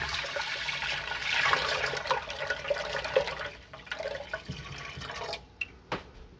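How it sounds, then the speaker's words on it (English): Two gallons of milk poured from a jug into a big pot make a continuous liquid glug and splash that fades into trickles and a few final drips. "I'm just going to dump both gallons of milk"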